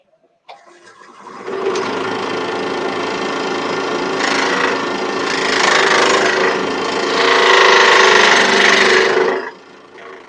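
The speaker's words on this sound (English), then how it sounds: "keep the gouge still in relation to the rest and just slide it along the rest" A gouge slides along the tool rest of a wood lathe as it cuts dry wood, giving a steady loud rubbing, whirring cut that swells in waves for about nine seconds, close up, with no talk.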